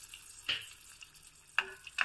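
Field beans (avare kalu) frying in oil with a green chilli for a Vidhyarthi Bhavan style breakfast dish, giving faint sizzling with a few short stirring scrapes at moments.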